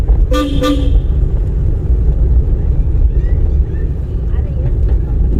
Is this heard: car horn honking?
yes